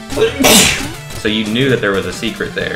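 A single loud, sharp sneeze bursts out amid casual conversation between two people while playing a Shovel Knight video game, followed by continued talking.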